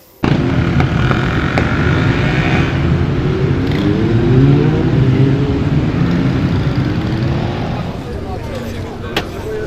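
Motorcycles revving at a season-opening group ride in Zielona Góra, Poland, a loud continuous engine roar with rising and falling rev sweeps, crowd noise and talk mixed in.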